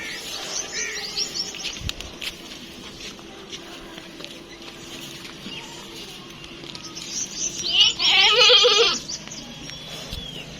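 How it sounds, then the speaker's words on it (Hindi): A goat bleats while eating, letting out one loud, drawn-out bleat near the end over quiet background noise. "और बकरी भी अभी खा रही है।"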